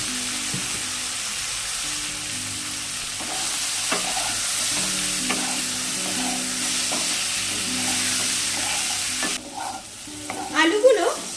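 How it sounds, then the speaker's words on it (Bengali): Potatoes fry with a steady sizzle in a pan as a utensil stirs and scrapes them in occasional strokes, close and continuous with no talking. "আলুগুলো 2 মিনিট মতো ভেজে নিয়েছি"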